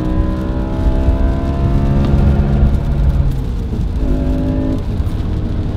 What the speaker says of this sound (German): jeder, der so ein RS4 B7 schon mal gefahren ist, der wird auf jeden Fall auch sagen, definitiv eins der Autos mit dem geilsten Begrenzer